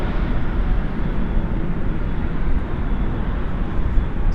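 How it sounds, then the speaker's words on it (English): A Boeing 737 lands at night at Dallas/Fort Worth with its reversers deployed, giving a loud, continuous broadband engine roar that holds steady and sounds close. "Spoilers up, reversers out on this 737."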